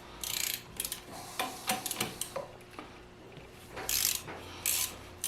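A ratchet wrench clicks in quick, uneven bursts while loosening a 17mm nut on a Mercedes W109 swing axle, with short pauses between strokes and close metallic ticks.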